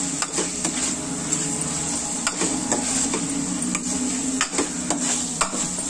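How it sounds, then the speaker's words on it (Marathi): Onions for kurma bhaji roast in a pan with a continuous soft sizzle, punctuated by occasional sharp clinks and scrapes of a utensil against the pan. "कांदा थोडा भाजायचा आहे चांगला"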